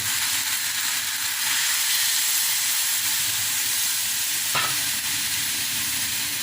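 Water hits a hot pan of lentil and vegetable curry made with urad dal bori, setting off a loud, steady hiss and bubbling sizzle, with a single sharp knock partway through and no speech.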